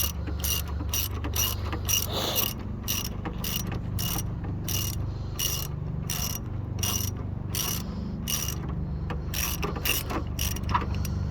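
A ratchet wrench works on the motor mount bolts of a 2005 Honda Accord, giving a steady run of close, rhythmic ratcheting clicks throughout, with no talking.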